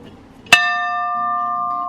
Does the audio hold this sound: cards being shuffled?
no